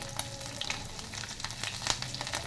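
Green chilli pieces fry in hot oil in a kadhai, with a dense, continuous sizzle and scattered small pops heard up close, and no talking.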